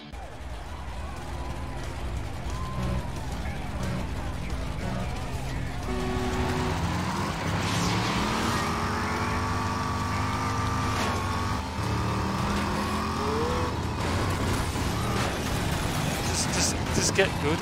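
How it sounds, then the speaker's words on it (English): Race car engines in the Rage video game at the Dusty Eight track, a sustained droning roar that rises and shifts in pitch as the cars accelerate, with a voice talking over the engines. "Drivers, start your engines."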